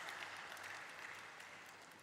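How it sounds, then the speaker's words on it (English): Faint, steady applause from an audience at a stock exchange listing ceremony at NSE, following a ceremonial lamp lighting; an even wash of clapping heard from a distance with no talking. "So let's applause for this beautiful ceremonial lighting of the lamp"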